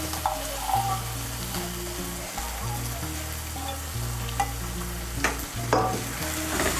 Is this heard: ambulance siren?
no